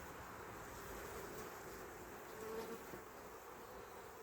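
Honey bees crowd the front frame of an open hive, their faint, steady droning hum continuous throughout, soft and slightly distant, with a light wash of wind beneath.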